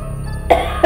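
A storyteller's voice imitates a barber's cough: two short, sharp coughs close to the microphone, separated by a brief pause.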